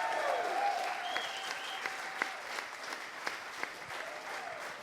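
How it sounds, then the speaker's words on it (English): A live comedy podcast audience gives a round of applause, dense clapping at moderate distance with a few sharper individual claps, while a voice speaks faintly over it at the start. "let's give Brett and Dill a massive round of applause"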